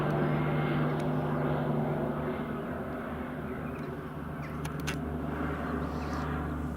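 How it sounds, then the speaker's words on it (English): A Twin Otter propeller aircraft at Glasgow Airport gives a steady, loud engine drone throughout, with a few faint bird calls over the constant rumble. "And that's another Twin Otter for you, Bob."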